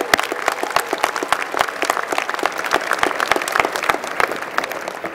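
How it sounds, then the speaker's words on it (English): A large commencement audience at an engineering school ceremony applauds the graduates' families and friends, dense continuous clapping with sharp individual claps standing out, steady and fairly loud. "we should give everybody up here a round of applause, the family and the support group and friends who have made this happen as well"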